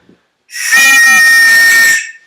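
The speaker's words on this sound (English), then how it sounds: "flag down, 1 long whistle, and you start your race" One long, loud whistle blast sounds up close to start a sailboat race. It holds steady for about a second and a half, then stops.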